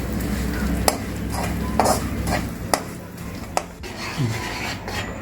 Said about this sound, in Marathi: सुकामेवा आहे तो टाकते. तो जरा गरम करून घेते